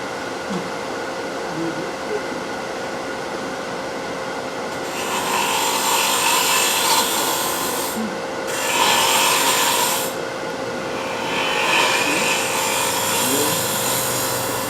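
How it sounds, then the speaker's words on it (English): Forstner bit in a drill cutting waste wood from the cup of a turned wooden goblet, a loud whirring grind that starts partway through and runs in a few bursts with short pauses between, over a steady machine hum. "it is easier to take and go in and get rid of some of the waste wood with a Forstner bit"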